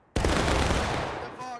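Musket volley in the War of Rights video game: one loud, sudden massed crack that rolls into a long, rumbling decay, with a voice briefly audible at the tail.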